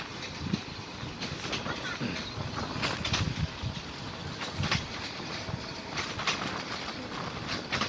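A passenger train on the Kushtia to Joypurhat route rumbles steadily from inside the carriage, with a continuous rolling roar and periodic clattering bursts, no voices.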